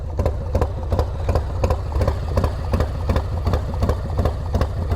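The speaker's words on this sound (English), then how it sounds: "It sounds like something's tapping near the intake." A Harley-Davidson Low Rider S idles steadily up close, its loud, lumpy V-twin beat repeating evenly with a light tapping noise near the intake.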